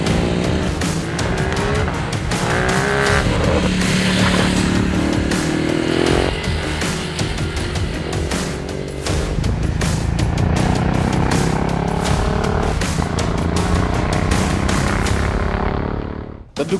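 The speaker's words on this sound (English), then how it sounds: "Well, we are talking about the Ducati Hypermotard 950." A Ducati Hypermotard 950 motorcycle is ridden hard, its engine roaring loudly and continuously, with the revs rising and falling through gear changes before cutting off sharply at the end.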